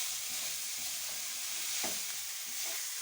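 Poha (flattened rice) frying in a pan, giving a steady close sizzle with faint stirring scrapes throughout, no voices.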